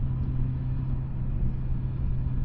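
A 2024 Suzuki GSX-S1000GT motorcycle engine revs in first gear, a loud, steady low rumble with a constant drone and no breaks.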